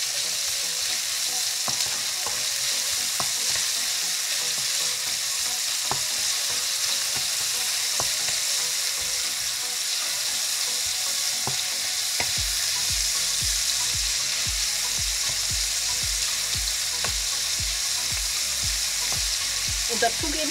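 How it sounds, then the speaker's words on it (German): Bacon frying in a pan, a dense, even crackling sizzle filling the whole stretch, with occasional clicks and a low rhythmic rumble later on, close and steady without any voices. "Nun braten wir unseren Speck an."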